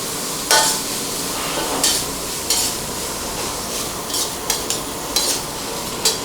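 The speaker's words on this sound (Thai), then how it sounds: "ผัดให้โดนน้ำมันสักครู่นะครับ" Catfish and celery stir-fried in hot oil in a wok, with a steady loud sizzle. Repeated sharp spatula scrapes and taps come roughly every half second to second.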